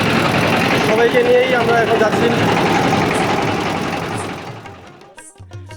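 A passenger river boat engine on the Jamuna runs with a loud, steady, rattling throb that gradually fades away, while someone talks over it.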